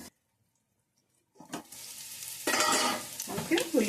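Onions frying with toor dal and drumstick leaves in a pan: silence at first, then a sizzle rises and grows louder with scraping stirs, nearby and without speech.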